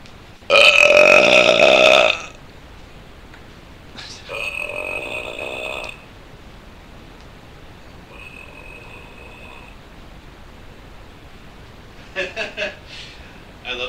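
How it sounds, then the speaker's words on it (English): Loud, echoing burps, one long burst at the start followed by a couple of shorter, fainter ones and a brief rippling burp near the end, separated by quiet background. "I love the spiraling echoes of burps."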